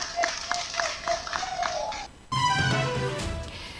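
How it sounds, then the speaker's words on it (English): A group of newly sworn census enumerators clap for themselves in a hall, a burst of scattered, uneven claps that breaks off and gives way to a louder, fuller round of applause. "Clap for yourselves."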